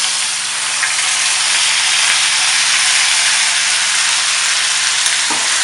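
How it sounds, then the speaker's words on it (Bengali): Ginger-chili paste hitting cauliflower and potatoes already frying in oil for a cauliflower and parshi fish curry gives a loud, steady, close sizzle that hisses without a break from start to finish. "এখন আমি ফুলকপি আলু ভাজার মধ্যে আদা লঙ্কা বাটা দিয়ে দিচ্ছি।"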